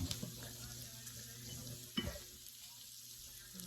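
Thin fideo noodles toast in a hot pan with a steady low sizzle, broken by a few nearby scrapes and clinks as they are stirred, one sharper knock near the middle.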